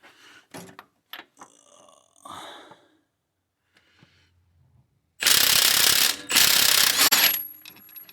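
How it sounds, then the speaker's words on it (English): An impact wrench breaks loose the harmonic balancer bolt on a 2016 Chevy SS sedan with an LS3 engine. Quiet ratcheting clicks and mechanical handling lead into two loud, close bursts of hammering, split by a brief pause. "we're going to see if we can break the bolt on the harmonic balancer and then the timing chain"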